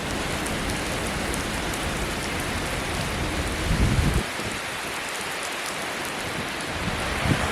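Heavy rain pours steadily in a dense, loud hiss, with a brief low rumble swelling midway before the downpour continues unchanged.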